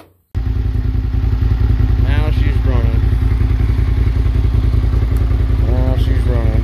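A cafe racer motorcycle with a Harley-like sound fires up abruptly and settles into a loud, close, rapid thumping idle, with brief voices faintly over it.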